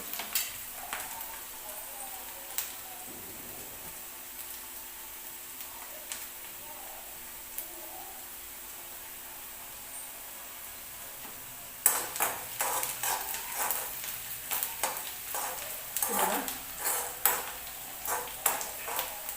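Chopped onion frying in a pan for a dry chickpea chole dish gives a quiet background sizzle at first. Partway through, louder scraping and clattering of a spoon against the pan takes over, with irregular knocks and no speech.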